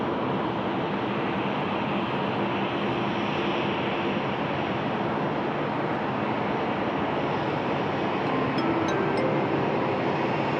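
A UPS Boeing 747-8 freighter climbs out from Sydney Airport, giving off a continuous broadband jet roar that holds steady and fairly loud for the whole stretch, with no voices.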